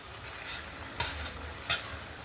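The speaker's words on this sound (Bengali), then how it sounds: "আমি নামানোর আগে একটু সামান্য সর্ষে তেল দিয়ে নামিয়ে নেব" Raw mustard oil goes into a simmering Pabda fish curry: a steady close sizzle and bubble, broken by two sharp utensil clinks against the pan, with no voices.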